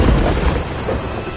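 A Bombarda spell detonates in Hogwarts Legacy amid a fast-paced magical duel, a loud, deep explosive boom with rumbling low end that fills the whole moment without any clear pause.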